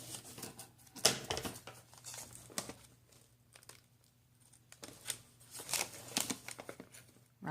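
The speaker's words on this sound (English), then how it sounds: "round them with the scissors." Scissors cut and round the corners of thin paper coin envelopes, heard as soft close snips and paper crinkles in irregular bursts, quiet and without talk.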